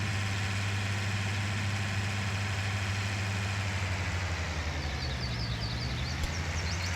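A small tractor idles in Farming Simulator 19, its engine a steady low-pitched drone with a constant hum that holds evenly throughout, close and unbroken with no voices.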